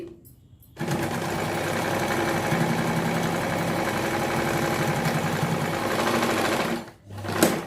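A sewing machine runs steadily while stitching a blouse, a continuous loud mechanical whir with fast needle chatter that starts abruptly, holds for about six seconds, pauses briefly and resumes at the end.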